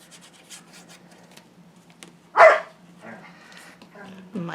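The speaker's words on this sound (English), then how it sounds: "My dogs are playing today." Dogs at play let out a loud bark and a few yips, with quieter shuffling and a soft whimper as the dogs move about indoors.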